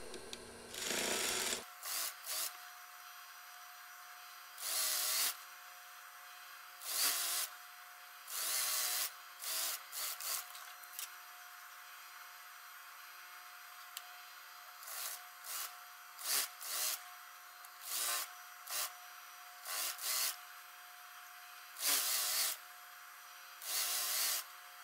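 A sewing machine stitches school trousers in short bursts of rapid mechanical whirring, separated by quiet pauses, close and clear with no talking.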